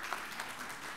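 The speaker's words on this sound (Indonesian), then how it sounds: "Tepuk tangan." Applause at a wedding reception during the cake cutting, a faint, steady patter of many hands clapping in a room, heard distantly for a brief moment.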